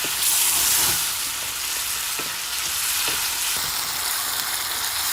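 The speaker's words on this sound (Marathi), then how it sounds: "बघा टमॅटो आहे ना असं पूर्ण मऊसपर्यंत ना आपल्याला परतून घ्यायचं" Tomato pulp is sautéed in a pan until soft, giving a dense, bright, continuous sizzle up close, with a few faint ticks of stirring under the hiss.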